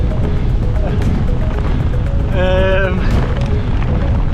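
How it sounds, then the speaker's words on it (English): Strong wind roars steadily and loudly across the microphone while cycling in the Alps, with a faint tonal whine rising briefly in the middle. "It's so fucking windy, I'm so slow."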